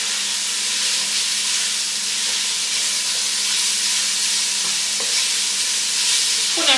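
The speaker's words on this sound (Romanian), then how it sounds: "Lăsăm uleiul să se încingă. Punem ceapa. Ardeiul gras." Onion and bell pepper sizzle steadily in hot oil while being stirred in a pan, a close, continuous frying hiss with occasional scraping stirs.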